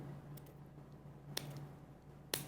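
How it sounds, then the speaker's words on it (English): A few sharp, quiet snips of kitchen scissors cutting dried mango, spaced apart against a soft steady background hum, with no talking. "I just take my little kitchen scissors and snip little pieces like that"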